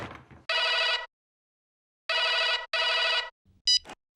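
A telephone bell rings close and loud in three short bursts, the last two back to back, followed by a small click and a brief electronic chirp as the handset is picked up.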